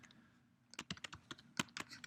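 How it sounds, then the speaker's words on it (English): Keys tap on a computer keyboard in a quick irregular run of soft clicks, faint and close, as a MATLAB command is typed in a quiet room. "so I can type sum A"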